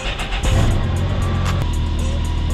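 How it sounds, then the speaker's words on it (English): A car engine starts with a burst and settles into a steady idle, close by, with no talking. "I'm gonna turn on the car"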